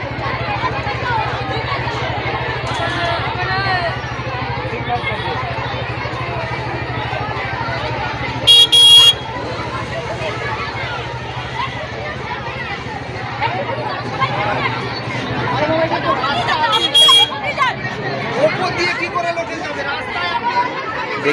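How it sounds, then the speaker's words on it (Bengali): A large crowd of women blocks a road in protest, making a dense, continuous hubbub of many overlapping voices. Two brief, sharp bursts stand out partway through, and a closer voice talks over the crowd. "দেখতে পাচ্ছেন মেয়েদের একটা ভিড়ের ঢল নেমে গেছে"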